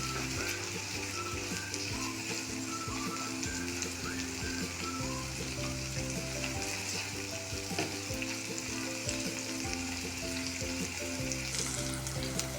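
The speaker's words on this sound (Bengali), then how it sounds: "এখন এটাকে ভালোভাবে মিশিয়ে নেব সবজির সাথে।" Vegetables for a noodle dish are stir-fried in a hot pan, giving a dense, continuous loud sizzle with repeated stirring scrapes and faint background music throughout.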